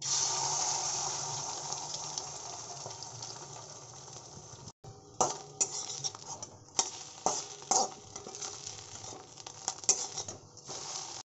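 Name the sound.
egg omelette being cooked in a pan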